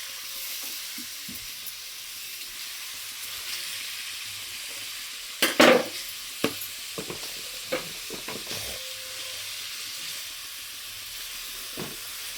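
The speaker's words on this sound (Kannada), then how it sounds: "ಈಗ ಫಸ್ಟ್ ಇದನ್ನ ಫ್ರೈ ಮಾಡೋಣ" Food sizzling steadily in a hot pan while noodles are being made, with a sharp clatter of stirring midway and a few softer scrapes after it. Nobody speaks.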